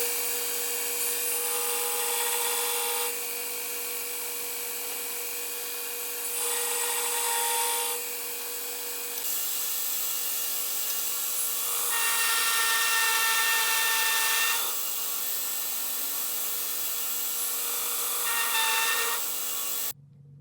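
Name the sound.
belt grinder grinding plate edge to width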